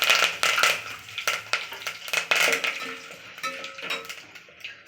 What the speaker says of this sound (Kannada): ಸಾಸಿವೆ ಮತ್ತು ಕರ್ಬೇವಿನ ಸೊಪ್ಪು ಹಾಕ್ತಾ